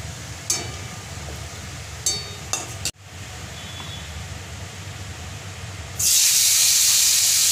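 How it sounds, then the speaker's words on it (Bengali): Mustard seeds fry in oil at the start of a tilapia fish curry with chalta (elephant apple): a low pan hum with a few sharp pops, then a sudden loud, steady, bright hiss of sizzling. "সর্ষেটা ভালো করে ভেজে নিতে হচ্ছে।"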